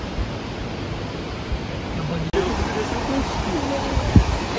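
Salto São Francisco, a huge waterfall in southern Brazil, roars as a steady broadband rush heard from above the falls, with faint voices and small handling bumps over the continuous noise.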